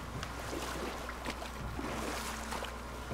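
In the God of War video game, a boat is rowed toward shore, with quiet rhythmic oar splashes and lapping water over a low steady rumble of sea and wind, faint and distant.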